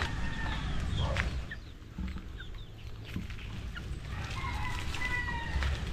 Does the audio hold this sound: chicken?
yes